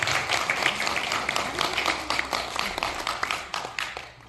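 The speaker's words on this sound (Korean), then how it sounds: "다시 한번 격려의 박수" At a formal gathering, an audience gives a round of encouraging applause, dense clapping at moderate distance that gradually thins toward the end.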